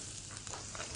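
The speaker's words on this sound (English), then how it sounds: "Hot oil, again frying." Zucchini and peppers frying in hot oil while stuffed organic red peppers are being made, giving a steady, dense sizzle with fine crackling throughout, close and continuous with no voices.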